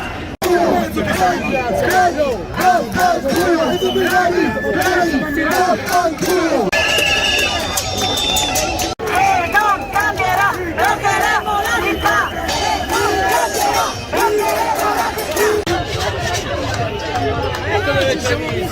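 A huge protest crowd in an Italian public square shouts and chants continuously, a loud dense roar of many voices with rising cries that never lets up.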